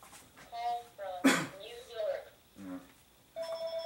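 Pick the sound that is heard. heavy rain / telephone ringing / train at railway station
telephone ringing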